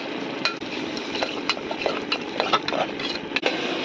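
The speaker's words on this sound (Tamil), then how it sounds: "இப்போ இந்த பேஸ்ட் நல்லா பச்சை வாசனை போகிற வரையும் வதக்கிக்கலாம்" Ground paste and onions sautéing in a pressure cooker for tomato rice, a steady close sizzle with scattered scrapes and clinks of a spoon against the metal throughout.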